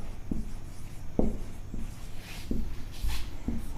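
Writing on a board: a series of sharp taps and scratchy strokes at irregular intervals, close and fairly loud over a steady low background hum.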